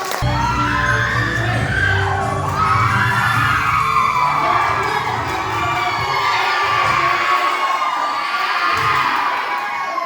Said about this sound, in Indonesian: Mari kita sambut dengan tepuk tangan yang meriah.